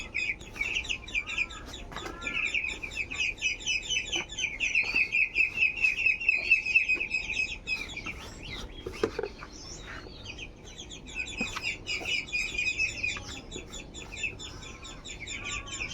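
Chinese ducks aged about one and a half months chatter and call while being fed, with bursts of high chirpy vocalizations coming and going over faint background shuffling.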